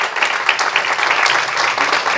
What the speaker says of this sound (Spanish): ¿Alguien quiere darle un aplauso a Cristo?